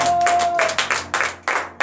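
A congregation at a morning prayer service in Benin claps in acclamation, a few loud rhythmic bursts of hands clapping in unison, close and reverberant, with a faint sustained tone early on.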